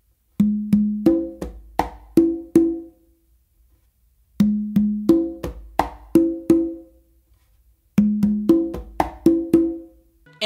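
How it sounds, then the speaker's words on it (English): Conga in a cha cha cha variation, with two open tones following a close slap. Three phrases of rapid hand strokes mix ringing open tones and sharper slaps, played solo and close. "But in this time, what I'm going to do is two opens,"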